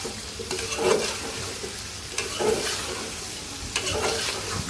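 Pointed gourd is stir-fried in oil in a pan, a close steady sizzle with three rhythmic scraping stirs of a spatula against the pan, no voices heard.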